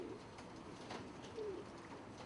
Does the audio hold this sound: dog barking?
no